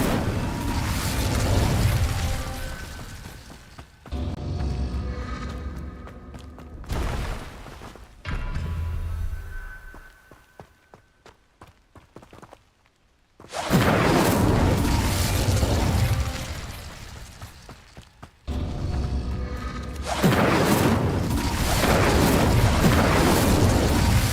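Spell-cast fire effects in Witch Simulator 2023 erupt as loud booming, crackling blasts in repeated bursts, separated by quieter gaps with rumbling mechanical noise.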